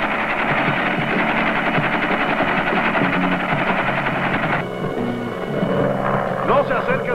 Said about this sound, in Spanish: Me parece que ahí se ve un helicóptero.